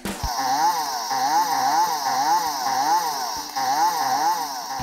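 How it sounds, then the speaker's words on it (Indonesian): A carpenter's saw cuts through a tree trunk in steady, repeating strokes, a loud continuous buzzing rasp that swells and dips rhythmically with each pass and runs alone with no voices. "Dalam buku Sean Coffey, ada seorang tukang kayu yang menggergaji pohon"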